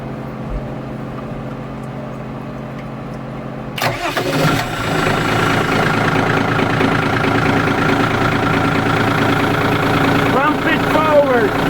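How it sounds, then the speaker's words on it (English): A boat engine cranks and catches for a propeller shaft rotation test, quiet at first, then a sudden start settling into a steady, loud running drone with a rising whine near the end. "Okay, we'll do a propeller rotation test."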